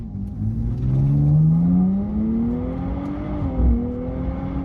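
A 2025 Nissan Z NISMO accelerates through its gears, the engine droning and rising in pitch, briefly dropping at a shift, then climbing again. It sounds loud and steady from inside or close by, with no talking.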